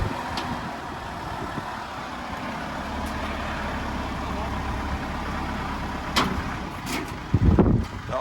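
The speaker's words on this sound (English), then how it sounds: "you'll see a pickup driving on the trailer, getting recovered" A pickup truck's engine rumbles low and steady at close range as it drives onto a recovery trailer, with a few clanks and knocks near the end and a voice talking over it.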